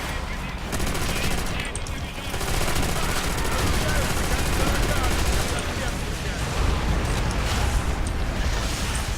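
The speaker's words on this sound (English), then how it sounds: "moving and shooting with the MG42" Machine-gun fire from an MG42 in Call of Duty: World at War, a steady dense clatter of rapid shots running throughout amid battle noise, loud and close with a voice talking over it.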